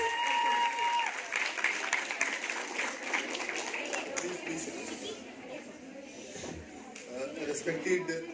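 An audience at a college mother-language day event run by a Dogri department claps steadily for several seconds. Chatter and talk run underneath, and the clapping fades slightly toward the end.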